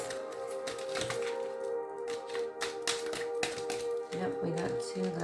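Tarot cards are shuffled in quick, uneven bursts of crisp riffling and tapping over a steady tonal background, with a voice speaking at times.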